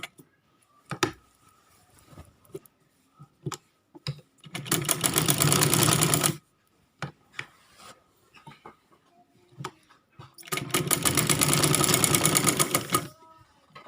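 A sewing machine stitches an A-line kurti in two loud, fast-rattling runs of several seconds each, separated by quieter clicks and handling taps, close and without speech.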